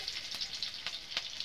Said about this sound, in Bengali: পেঁয়াজটাকে লাল লাল করে আমি ভাজে নেব পেঁয়াজটাকে।